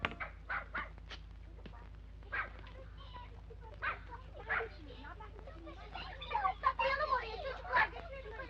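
A dog yaps and barks in short bursts at close range, with whimpering yips mixed in against a quiet room hum.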